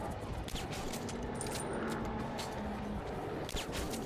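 Gunfire in Metro Last Light, a dense rattling fusillade of rapid shots over constant in-game background noise, steady and fairly even in level.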